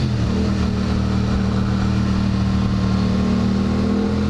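A motorcycle's loud exhaust booms right next to the rider on a group street ride, a continuous heavy engine drone that stays close and steady throughout with no other sounds breaking through.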